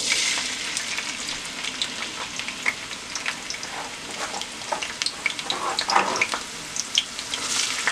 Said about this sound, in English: I have my oil in a pot. I'm just gonna wait for it to get hot and I'm gonna put some onions in there.